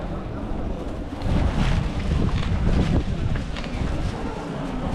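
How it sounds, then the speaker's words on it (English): Strong wind buffets a microphone on a Lisbon street, a loud continuous rumbling roar that swells and gusts over several seconds. "it's pretty windy today, so hopefully that doesn't affect the audio too much"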